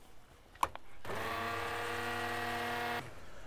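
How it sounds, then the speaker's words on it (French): Immersion blender whirring in brown gravy sauce for poutine: a small knock, then the motor starts and holds a steady high whine for about two seconds before it cuts off, loud and close. "Mixeur plongeant et on mixe un max."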